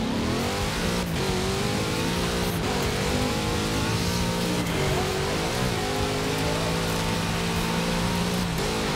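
A big Chevrolet engine in the racing game Forza Horizon 4 revs hard and continuously, its pitch rising and falling through gear changes, loud and close with no talk.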